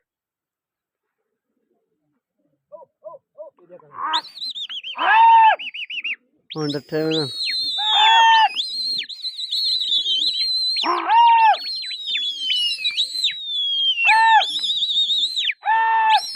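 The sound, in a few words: pigeons cooing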